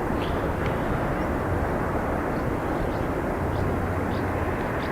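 Aer Lingus airliner departing Dublin Airport for Minneapolis, a steady broad roar of jet engines holding at constant loudness throughout, with no voices.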